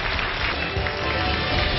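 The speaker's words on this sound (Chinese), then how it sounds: "掌声有请" Steady, dense applause from a studio audience at a Chinese television dating and relationship talk show, a continuous broad wash of clapping at an even level throughout.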